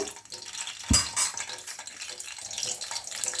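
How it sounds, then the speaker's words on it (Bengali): Dry red chillies, cinnamon, cloves and two cardamom pods stirred in a pan with oil, a light sizzle with a sharp clatter of a spoon near the start, fairly close. "শুকনো লঙ্কা, দারচিনি, লবঙ্গ আর 2টো এলাচ। একটু নেড়ে চেড়ে নেব।"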